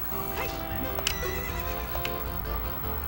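A horse in the Zelda Ocarina of Time video game whinnies loudly with hoof clip-clops around it, set against steady game background sound and no talking.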